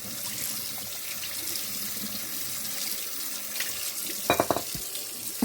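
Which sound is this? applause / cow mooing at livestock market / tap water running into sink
tap water running into sink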